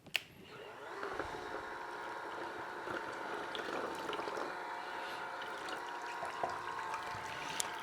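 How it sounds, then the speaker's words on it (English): Cold milk pours steadily into a bowl of banana pudding mix, a continuous close liquid rush with a few faint clinks, no talking. "So I'm just going to pour in the cold milk from over here."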